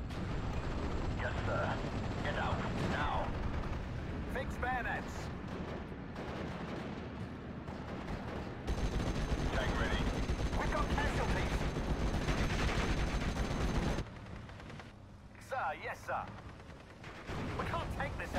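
A 17-pounder anti-tank gun fires in a Steel Division Normandy 44 battle, with sharp gunshot cracks scattered among constant rumbling combat noise, distant explosions and machine-gun fire, while someone talks over much of it.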